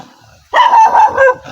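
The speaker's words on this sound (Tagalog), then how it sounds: "Aso na naman." A dog barks once close by on a narrow forest trail, a sharp, loud bark that drops into a short, whining follow-up yelp.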